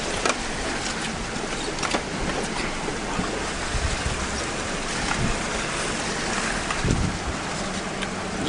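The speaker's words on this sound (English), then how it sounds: "the stream's flowing pretty good" A mountain stream in Azusa Canyon, running high after rain and snowmelt, rushes steadily and loudly, a dense continuous wash of water with no voices.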